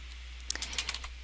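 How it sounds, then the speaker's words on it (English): Keys clack on a computer keyboard in a brief run of quick, irregular taps over a steady low electrical hum, near and moderately quiet, with no speech. "So I'm going to keep typing here."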